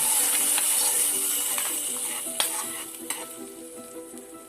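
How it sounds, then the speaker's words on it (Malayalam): Hot tempering oil with curry leaves poured into a taro and kudampuli curry gives a loud, steady hiss of sizzling with a few sharp crackles and spoon clinks; no one speaks. "ഇനി നമുക്ക് ഈ കറിയിലേക്ക് ഈ താളിപ്പ് ഒഴിച്ചു കൊടുക്കാം"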